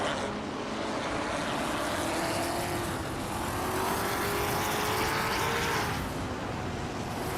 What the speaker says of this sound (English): Zooming ahead in a classic 1966 McLaren 1B